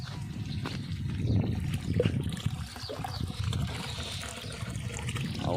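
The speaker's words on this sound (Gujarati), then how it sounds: "હવે આપણે કુંડા ભરી નાખીએ આપણા કુંડા છે કુંડા ભરવાના છે" Water is filled into hanging pots set out for birds on a farm, a steady outdoor splashing and trickling wash that runs unbroken and fairly close with no voices.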